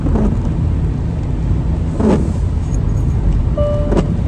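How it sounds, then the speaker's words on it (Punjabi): Steady rain falling at a petrol pump, a broad continuous hiss filling the whole stretch with a passing vehicle rumble and a couple of brief clatters. "ਮੀਂਹ ਪੈ ਰਿਹਾ ਆ"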